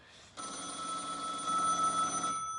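A telephone rings steadily during a home live broadcast, a continuous electronic ring tone that starts abruptly and holds for about two seconds, fairly loud with no talk over it.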